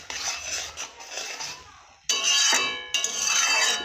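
Toast pieces stirred and tossed in a pan over a gas stove, giving bursts of metallic scraping and clinking close up, with a short quiet gap in the middle before the clatter resumes louder.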